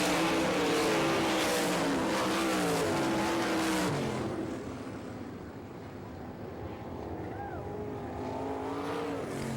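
Sprint cars roar around a dirt track during an All Star Circuit of Champions heat race at Florida Speedweek in Barberville, Florida, with loud, sustained engine howls that rise and fall as the pack passes, and a commentator talking faintly underneath.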